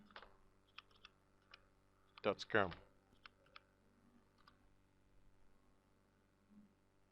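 Typing on a computer keyboard, a few scattered light key clicks with one brief louder burst of taps, quiet and close, no talking.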